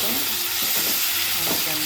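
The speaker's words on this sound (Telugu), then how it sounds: "టమాటా గోంగూర కూడా పెట్టేస్తాను." Tomato and gongura leaves stir-frying in a pan, a steady sizzle under the scrape of a spoon moving through the mixture, close and continuous with no talking.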